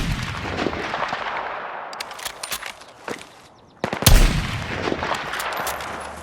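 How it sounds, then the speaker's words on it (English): Battlefield 6 combat: bursts of machine-gun fire and sharp gunshots crackle through the battle, then a deep, heavy explosion booms after a brief lull, all loud and close. "spectacular explosions peppering skylines and gunfire whizzing and cutting through smoke and debris"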